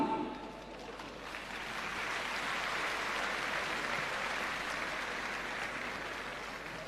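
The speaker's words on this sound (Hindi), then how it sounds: "ये सारी तालियां अमानुल हक के खाते में गई" Audience clapping at a school award ceremony honouring students, a steady dense applause that swells after the first second and holds, fairly loud, with no speech over it.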